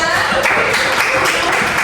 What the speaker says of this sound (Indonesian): Tepuk tangan untuk lagi semuanya.